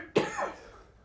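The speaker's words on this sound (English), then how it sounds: "Excuse me, I got to cough one more time." A single sharp cough from a man with a dry throat and sinus trouble, close and loud, a harsh burst followed by a brief rasping tail, alone without talk.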